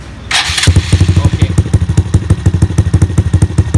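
A Honda MSX125 motorcycle engine cranks and catches after a brief burst of noise, then settles into a steady, loud, pulsing exhaust idle close by.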